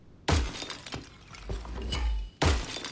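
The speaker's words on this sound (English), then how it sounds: "I feel like it wants me to shatter this vase." A vase smashing in the Escape Simulator video game, Magic DLC, with two sharp glass-shattering crashes about two seconds apart and tinkling debris between them, close and loud.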